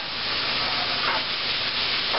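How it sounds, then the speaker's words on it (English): Veggies sauté in a hot frying pan with oil, giving a steady, loud broadband sizzle that hisses on without pause, close up and with no voices over it. "You hear the nice hot sizzle"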